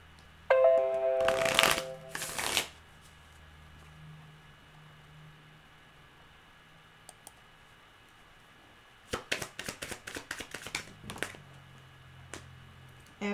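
Playing cards shuffled for a card reading: two bursts of riffling near the start, a quiet stretch, then a longer run of rapid crisp card flicks and snaps later on, close and clear with no talking.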